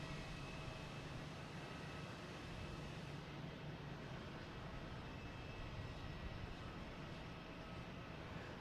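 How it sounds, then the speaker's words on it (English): An American Airlines Airbus A321 arriving from Charlotte into Boston Logan, a faint, distant, steady jet roar that slowly shifts in tone, with no voices. "We have an American Airlines coming in from Charlotte. An A321."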